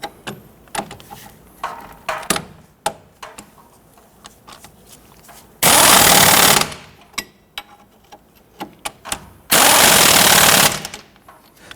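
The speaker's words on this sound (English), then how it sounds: "Tighten down our knuckle bolts here." An impact wrench rattles in two long, loud bursts while tightening the strut-to-knuckle bolts on a 1992-1996 Toyota Camry front strut assembly, with lighter clanks and handling noises between the bursts.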